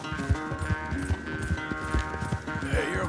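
Horse hooves clip-clop in a steady, quick rhythm close by in Red Dead Redemption 2, the hoofbeats loud and regular over a tonal background.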